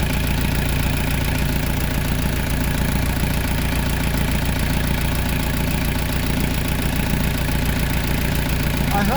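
Steady diesel engine of a CS 36 Traditional sailboat idling throughout, a constant low rumble with a mid-range drone, close and even with no talking.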